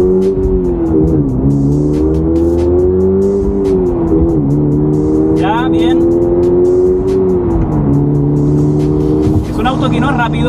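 A Subaru car set to track mode accelerates, its engine note rising in long sweeping pitch climbs and dips as it pulls through gears, loud and continuous beneath steady talking.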